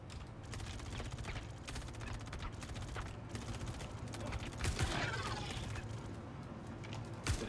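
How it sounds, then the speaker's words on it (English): Gunfire in the video game Star Citizen, shots fired through walls: a steady crackle of rapid shots runs throughout at moderate loudness, with a sharper burst near the middle and no talk over it. "They're shooting through walls."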